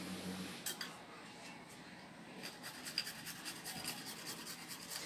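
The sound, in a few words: grating garlic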